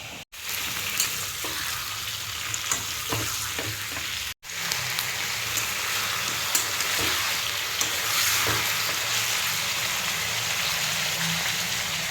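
Meat and onions fry in a pan with a loud, steady sizzle and crackle, with occasional stirring scrapes; the noise runs continuously apart from two brief dropouts, and no one speaks.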